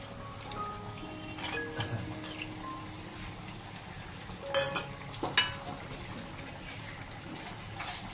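Khichuri cooks in a pot with intermittent stirring scrapes and clinks over a soft bubbling sizzle, fairly faint, with a few louder knocks midway.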